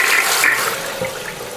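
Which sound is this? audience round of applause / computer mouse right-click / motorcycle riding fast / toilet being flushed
toilet being flushed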